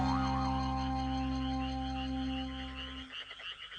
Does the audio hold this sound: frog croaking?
yes